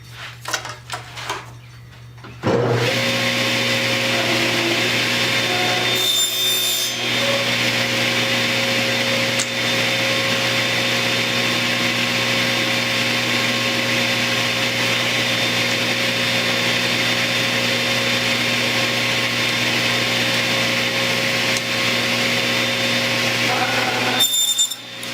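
A power saw cuts wood boards for a beehive inner cover, starting with a short burst of handling noise, then a loud continuous motor whine with a brief dip near the middle and a cutoff at the end.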